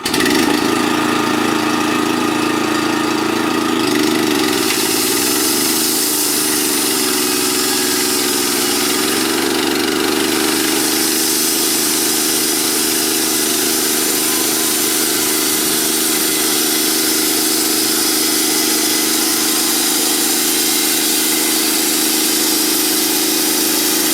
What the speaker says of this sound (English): this lever engages the saw blades, the wheels that drive the saw blade